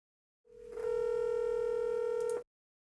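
A steady electronic call tone from the YOVU web phone after the call button is pressed, a single continuous hum with a harmonic buzz that starts abruptly, holds for about two seconds, then cuts off, with nothing else audible.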